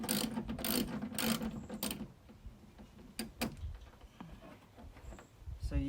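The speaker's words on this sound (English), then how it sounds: "This is a 10 millimeter socket you'll need for that." A hand ratchet with a 10 mm socket clicks quickly and closely while removing fasteners for mud flap installation on a 2020 Toyota Tacoma, a dense run of clicks followed by a few scattered ratchet ticks.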